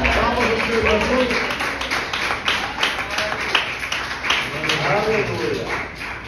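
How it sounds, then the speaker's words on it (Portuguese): A church congregation claps together in a steady rhythm during a worship service while a preacher keeps speaking over the applause. "Palmas ao Senhor Jesus."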